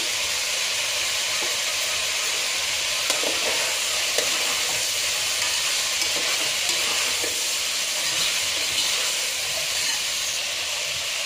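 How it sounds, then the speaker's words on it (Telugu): Vegetables with curry leaves sizzle and fry steadily in a hot pan, a continuous dense hiss with occasional faint stirring clicks, close and loud throughout with no talking. "వెజిటబుల్స్ అయితే వేగుతున్నాయండి. ఇంకా ఇందులో నేను కరివేపాకు యాడ్ చేస్తున్నాను."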